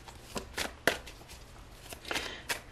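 Tarot cards shuffled by hand, a run of sharp papery riffles and slaps arriving in irregular bursts, close and fairly quiet with no talk.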